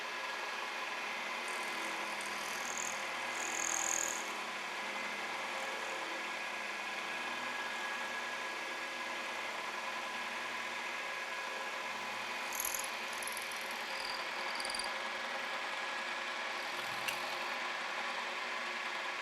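A horizontal boring mill feeds out a milling cut on an end spline for a crank repair, giving a steady mid-pitched mechanical drone with a few faint high squeals, close and continuous with no talk.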